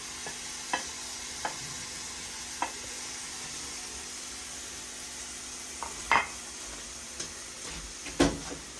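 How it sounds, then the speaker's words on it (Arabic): Shrimp mixture stirred in a frying pan, with a faint constant sizzle and scattered light scrapes and clinks of the utensil against the pan, heard alone. "حركو مزيان كيتخلط"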